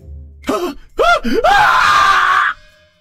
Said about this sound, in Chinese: 她一声大叫